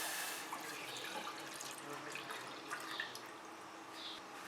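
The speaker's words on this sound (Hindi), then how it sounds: "पहले मैं पैन में डालूंगी 2 कप दूध" Two cups of milk poured into a pan, a soft continuous liquid splashing and trickling close by with no talk.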